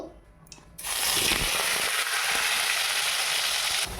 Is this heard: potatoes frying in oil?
yes